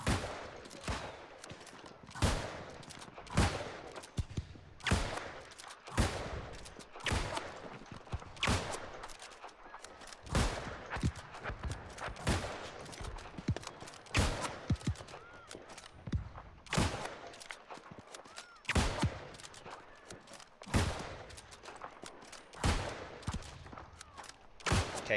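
Rapid musket volleys from the shooter game New World War crack again and again across the whole stretch, sharp loud reports in irregular bursts, some overlapping like a ragged firing line.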